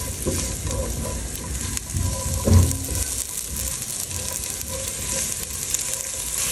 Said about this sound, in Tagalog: Lagay tayo ng konting mantika kasi gisayin natin yung shrimp. Ilagay na natin yung ating sibuyas at saka bawang.